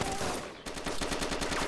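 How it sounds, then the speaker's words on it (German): Sustained automatic gunfire rattles from players in the survival game DayZ, a continuous stream of rapid shots with a brief break partway through, loud and dense from start to finish. "Die schießen."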